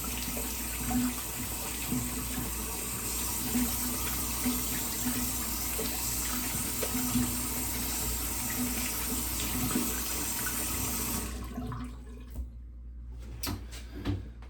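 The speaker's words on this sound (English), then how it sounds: "I'm gonna rinse my hands off of this now." Running tap water pours steadily over hands being rinsed after a straight razor shave, a close continuous splashing rush that cuts off near the end, leaving a few faint drips and handling sounds.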